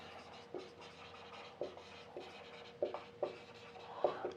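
Chalk or marker writing on a board during a chemistry lecture on aldehydes and ketones, with scattered short scratchy strokes and taps over a quiet room hum, no voices.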